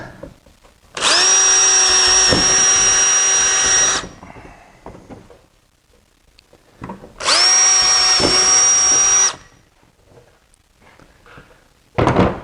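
A power drill bores into a cleat on a front splitter for a Power Wheels C7 ride-on car, two loud, steady bursts of about three seconds each with a pause between, then a brief start at the end.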